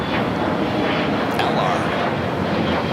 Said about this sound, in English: This flight heading to Vegas, Alaska Horizon, flight 2146, E175X